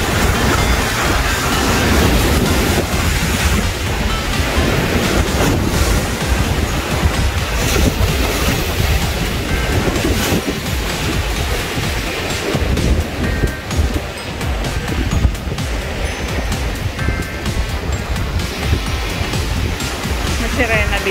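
Heavy ocean surf on the coast of Quezon Province, Philippines, crashes and rumbles continuously, loud and close, with wind buffeting the microphone.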